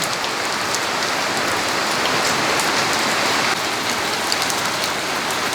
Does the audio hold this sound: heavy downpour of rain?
yes